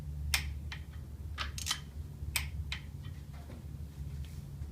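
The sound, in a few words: torque wrench final torque to 55 foot-pounds on GMC V6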